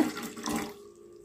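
Water runs and splashes into a cooking pot for about a second, a close, bright pour that cuts off and leaves a faint hum.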